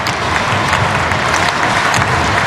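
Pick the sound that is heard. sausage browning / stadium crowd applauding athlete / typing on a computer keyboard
stadium crowd applauding athlete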